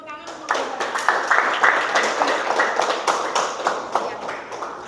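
Students in an Indonesian-language classroom clap for a student group after its presentation, a few seconds of scattered, close applause from a small class, with voices talking over it.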